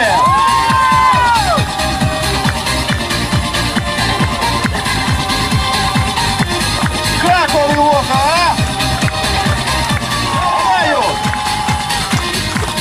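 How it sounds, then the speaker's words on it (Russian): An audience at a kettlebell juggling strength show cheers and claps loudly in a dense crowd roar, with a voice talking over it and whistling sweeps rising above the noise. "Ваши аплодисменты!"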